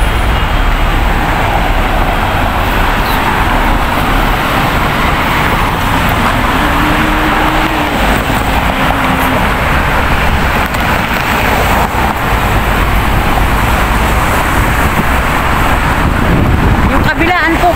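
Steady road traffic at night in Central, Hong Kong, a constant broadband wash of passing cars with a low rumble, heard throughout under a speaking voice.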